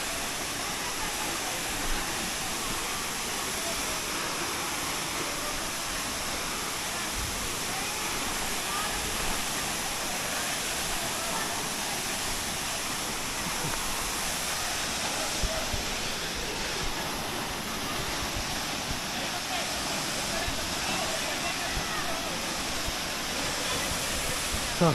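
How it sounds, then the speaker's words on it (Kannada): Soochipara waterfall pours down in a steady, dense roar of falling water, loud and continuous for the whole stretch with no letup. "ಸೂಚಿಪರ ವಾಟರ್ ಫಾಲ್ಸ್"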